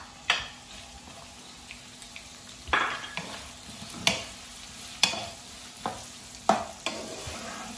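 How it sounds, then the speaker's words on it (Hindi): Chopped onions frying in hot oil for a mutton liver (kaleji) dish: a steady close sizzle broken by several sharp scrapes and stirs of a spoon in the pan, with no talking. "ऑयल हमारा गर्म हो जाए तो हम इसमें प्याज डाल देंगे।"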